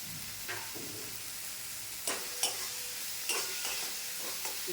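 Tomatoes with salt fry in a pan under a soft steady sizzle, while several distinct scraping stirs of a spatula sound close by.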